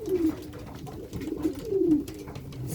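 A male racing pigeon coos in a loft, several close, throaty rolling coos in an uneven rhythm over quiet background rustle.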